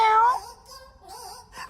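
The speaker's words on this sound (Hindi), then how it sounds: "मेरी बिल्ली।" A cat meows several times in a Tenali Rama story scene, the calls rising and falling, loud at first then softer, with a short closing cry, under light background sound.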